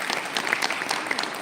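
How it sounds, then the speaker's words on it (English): Brief, steady round of applause from a seated audience at a university doctoral brunch, moderately loud, many hands clapping together. "we'd like to give you a round of applause as well."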